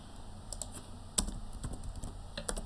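A computer keyboard is tapped out while writing a software test case, giving scattered close keystrokes with a few sharper clacks, heard alone without talk.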